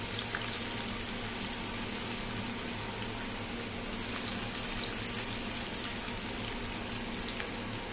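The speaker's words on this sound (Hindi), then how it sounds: "तो सबसे पहले मैं इसमें प्याज और मिर्चा डालूंगी और इसे 2 मिनट तक मीडियम फ्लेम में कुक करना है।" Onions and green chilies frying in hot oil over a medium flame, a constant soft crackling sizzle that stays even and fairly faint throughout.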